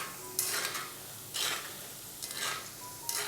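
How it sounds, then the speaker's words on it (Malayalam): A small spoon stirs flattened rice pakoda (aval pakkora) frying in oil, giving a few soft scraping swishes at intervals over a quiet, steady sizzle. "ഇതുപോലെ ചെറിയ എന്തെങ്കിലും ഒരു സ്പൂൺ കൊണ്ട് മാത്രം നമ്മൾ ഇളക്കി കൊടുത്താൽ മതിയാവും."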